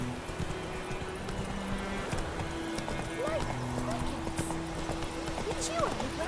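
Hooves of Roach, a horse in the video game Witcher 3, clip-clop in a steady trotting rhythm, with an occasional whinny and game music and ambience running underneath.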